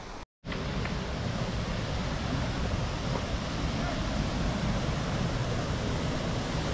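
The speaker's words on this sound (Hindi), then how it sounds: "फाइनली आप लोग देख सकते हैं गुंडीचा घाई वाटरफॉल में पहुंच चुका हूं" Gundicha Ghagi waterfall in Keonjhar, Odisha, pours in a steady, loud, broadband roar that fills the scene without a break after a brief dropout at the very start.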